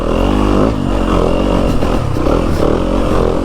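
A 2025 Yamaha YZ250FX dirt bike engine drones steadily while riding, a loud close buzzing note that holds nearly constant with slight rises and dips in pitch throughout.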